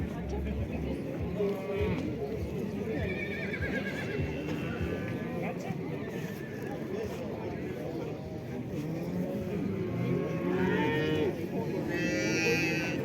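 Cattle and horses at the Karakol livestock market, with moos and whinnies rising from a busy crowd as people talk throughout, animal calls sounding at moderate distance among market chatter and occasional hoof clops.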